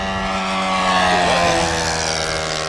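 A Hanger 9 P-47D-1 .60-size RC model warbird flies past with a steady, loud engine drone and strong harmonic whine, rising slightly in pitch mid-pass as it banks in with gear and flaps down.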